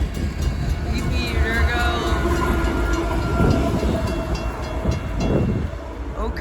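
A CSX freight train rumbles past through a snow storm in Holland, Michigan, a steady loud rolling roar with a horn-like tone early on, lasting throughout with a person speaking over it.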